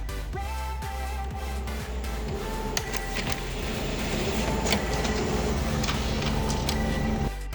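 An office printer runs through a print job, feeding paper with a steady mechanical churn and repeated rhythmic clicks and whirs, loud and close throughout with no talking.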